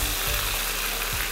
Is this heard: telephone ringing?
no